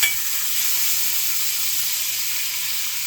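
Beef chuck steak searing in a hot pan gives a steady, loud, close hiss of sizzling fat and juices, continuous and even throughout with no talking.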